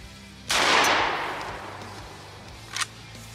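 A single Vepr 12 shotgun shot, fired while testing rounds fed from an SMG magazine, cracks sharply and loud, trailing off in a decaying echo, followed by a brief metallic clack from the action about two seconds later.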